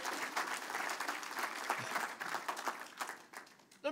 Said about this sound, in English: Give Jesus a hand clap right there.